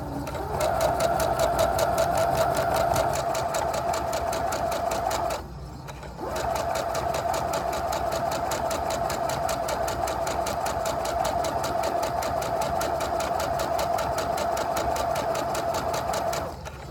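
A sewing machine runs steadily while stitching printed and white 5-inch quilt squares together, a fast, even mechanical whir at close range with one short pause partway through, no voices.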